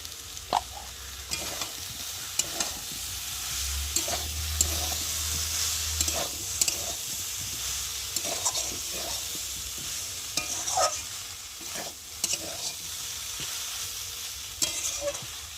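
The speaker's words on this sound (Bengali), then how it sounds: "আমার ভালোভাবে মশলার সাথে সবজিটা কষানো হয়ে গেছে" Vegetables and small soybean chunks sautéed with spices and a little turmeric in a pan. There is a steady sizzle with repeated scraping stir strokes spread through the clip, close and moderately loud, and no talking.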